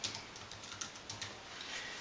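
Soft, quiet keystrokes on a computer keyboard while entering a title over photos in iMovie, a few irregular taps spaced apart over a steady background hiss.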